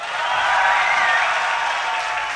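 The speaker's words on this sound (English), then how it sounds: "That cheering was highly imbalanced." A crowd at a Dreamhack StarCraft match cheers in a steady, loud, hissing roar that holds for a couple of seconds with no talking.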